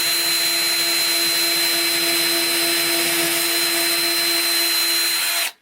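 A power tool drives a fastener into a wall to mount a Harbor Freight power strip, producing one continuous loud whirring whine with a steady tone that cuts off abruptly at the end, close and alone.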